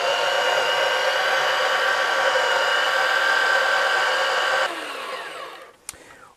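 An electric grinder whirs loudly and steadily as it grinds spice seeds for a homemade harissa blend, then cuts out and winds down near the end with a final clunk.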